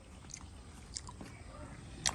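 Someone eats jamun fruit while sitting in a village home, with soft bites and chewing clicks scattered through a quiet room tone and a sharper crunch near the end, close up and fairly faint.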